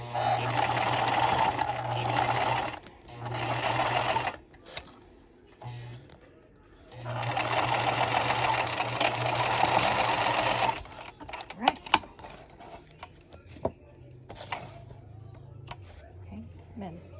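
A sewing machine topstitching fabric a quarter inch from the edge runs in long steady whirring bursts with pauses between, close up, while someone talks over and between the runs.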